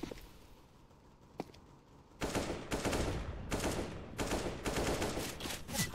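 Bursts of automatic gunfire in Counter-Strike: Global Offensive on the Italy map, a couple of isolated shots followed by several loud, close rapid volleys in quick succession.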